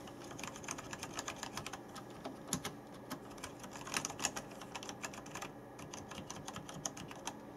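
Quiet keys on a Logitech G910 Orion Spark mechanical keyboard pressed one by one in an irregular rhythm, soft muted clicks close up with no talking.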